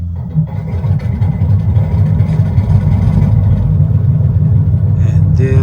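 A simulated engine from a sound system revs on its own as power increases, giving a loud, steady low rumble that holds throughout, with a brief higher tone near the end.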